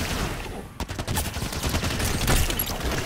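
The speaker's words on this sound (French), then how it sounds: "C'est vraiment une putain d'arme le fusil à pompe quand même." Shotgun blasts ring out in the video game Halo 5 amid dense, overlapping gunfire, loud and close, forming a continuous barrage with several sharp reports.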